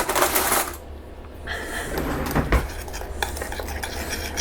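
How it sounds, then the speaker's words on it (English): Snickerdoodle dough being mixed with a spoon in a bowl, loud close clinks and scraping knocks of metal against the bowl in an uneven rhythm, no talking. "I need a spoon to mix this up."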